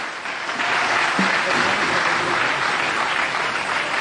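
A church congregation applauds steadily during a French-language sermon, a dense, even wash of clapping that holds at full strength for about four seconds with no talk over it.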